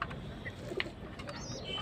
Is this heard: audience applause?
no